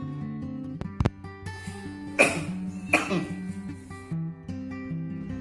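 A person demonstrates coughing the wrong way, openly into the air, with a couple of sharp, close coughs and a throat-clearing sound mixed with brief vocal noise.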